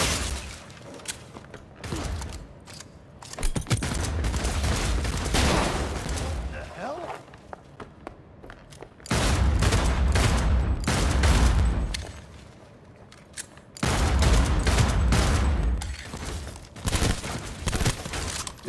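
Gunfire in the video game Cyberpunk 2077: loud bursts of rapid shots and booms come in long clustered stretches separated by quieter gaps, with a voice talking at times.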